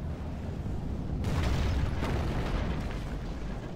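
Artillery barrage impacts in the Rome: Total War video game, a dense rumbling wash of booms with sharper bursts near the middle, sustained and heavy throughout.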